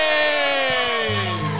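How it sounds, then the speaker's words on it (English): A live audience at a comedy show in South Austin cheers and whoops loudly, with a long sustained tonal chord ringing over the crowd noise throughout. "give yourselves a round of applause"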